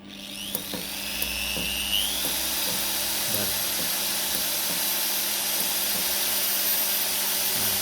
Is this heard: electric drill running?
yes